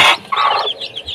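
Native chickens cluck close by in short, loud, choppy bursts, a couple of hens calling one after another on a poultry farm.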